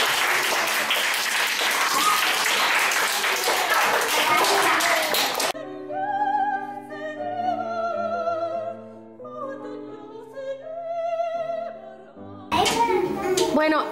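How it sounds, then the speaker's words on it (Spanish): Classroom of children giving themselves a loud round of applause, a dense burst of clapping for several seconds that stops abruptly, gives way to a stretch of music, then returns briefly at the end. "Con un aplauso fuerte con mucho ruido"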